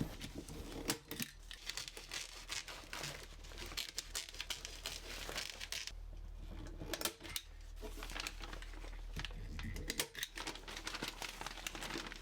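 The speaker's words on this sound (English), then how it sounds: "I add weed fabric to the bottom for drainage and plastic lining to the sides" Weed fabric and plastic lining get fitted into a wooden planter with continuous crinkling, rustling and tearing of sheet material, plus scattered sharp taps and handling noises, close and fairly steady throughout.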